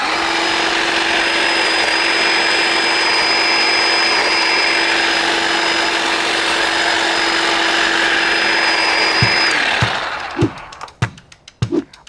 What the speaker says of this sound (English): And now I can clean all of this up using my battery operated lithely blower.